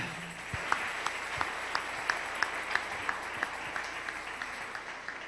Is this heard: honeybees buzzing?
no